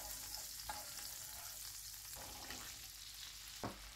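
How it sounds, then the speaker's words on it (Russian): Potatoes fry in a pan of vegetable oil and butter, giving a quiet, continuous sizzle with a few brief scraping stirs. "Картошку будем обжаривать до готовности, периодически вот так будем перемешивать."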